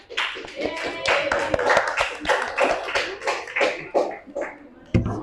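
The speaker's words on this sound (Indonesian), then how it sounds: "Tepuk tangan untuk temannya yang maju." Students in a classroom clap for classmates who came forward to present, a small group's uneven, fairly close handclaps in loose bursts, with a voice briefly audible among them.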